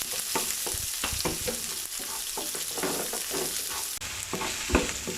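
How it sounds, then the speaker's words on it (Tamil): Onion sizzles as it is stirred in hot oil for a Chettinad fish curry, with loud, dense crackling frying and irregular scraping strokes close by over a few seconds, and no voices. "2 வெங்காயத்தில் 1 வெங்காயத்தை போட்டு நல்லா வதக்கணும்."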